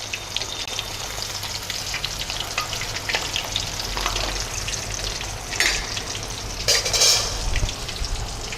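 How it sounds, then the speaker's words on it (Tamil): Chicken sticks deep frying in hot oil, a loud, continuous crackling bubble with sharper spitting bursts near the end, close up and with no one speaking. "இது மாதிரி போட்டு இது நல்லா பொன்முருளாக வர அளவுக்கு நல்லா ஃப்ரை பண்ணி எடுத்துருங்க"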